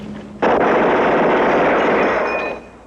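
Automatic weapon gunfire from a film, a loud sustained burst of rapid shots lasting about two seconds, then trailing off, with no talk.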